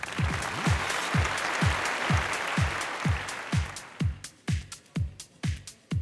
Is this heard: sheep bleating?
no